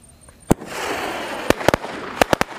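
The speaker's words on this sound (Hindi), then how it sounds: "और ये चल रहा हमारा अनिल का 7 शॉट देखते हैं ये कैसा चलता है।" An Anil 7-shot firecracker cake fires a rapid string of sharp, loud bangs, spaced unevenly over a couple of seconds with crackling fizz between the reports, heard outdoors with no talking.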